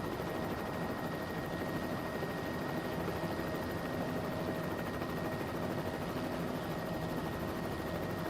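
Helicopter in a flight video game heading toward a rooftop helipad, a continuous rotor and engine drone with a steady high whine, even and unchanging throughout with no talking.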